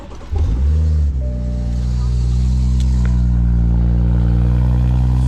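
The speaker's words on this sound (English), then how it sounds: "I'm gonna show you a cold start with just one" A BMW fitted with a new exhaust and a resonator cold-starts with a crank and a loud catch, then settles into a high, steady idle that holds close and strong with no talk over it.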